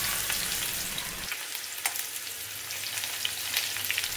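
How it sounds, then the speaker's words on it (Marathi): Eight or nine crushed garlic cloves fry in oil for a spicy brinjal bharit, giving a steady bright sizzle with small pops and crackles, close up and without speech. "लसूणचा कलर लालसर होईपर्यंत आपल्याला भाजून घ्यायचा आहे"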